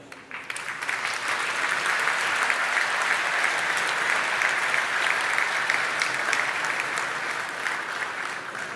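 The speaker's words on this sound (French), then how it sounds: "Je voudrais vraiment que vous les applaudissiez." Sustained, dense applause from an audience at an evening event held by a chamber of commerce, steady and full for the whole stretch with no voices over it.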